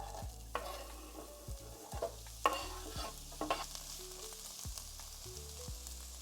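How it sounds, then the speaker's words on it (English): Onions with garlic being stirred in a pot, a series of quiet scraping and clunking spoon strokes against the pan over a faint sizzle, close and fairly soft, no speech. "Let's stir it well."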